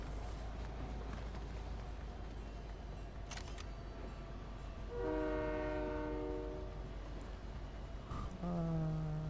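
Train horn in the Fortnite video game sounds two sustained harmonic blasts over steady rumbling train noise, the first long blast mid-clip and a second starting near the end, loud against the constant background.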